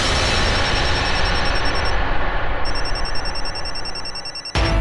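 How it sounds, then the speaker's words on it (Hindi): A phone rings with a repeating electronic ringtone, loud and close, pausing briefly before resuming, then cutting off abruptly. "कौन फोन कर रहा है मुझे?"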